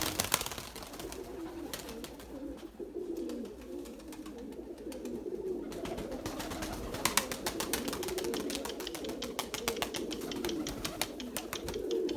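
Pigeons coo repeatedly at a loft during a flight session, soft rolling low calls overlapping in a steady chorus, with a few sharper clicks and wing or perch noises nearby.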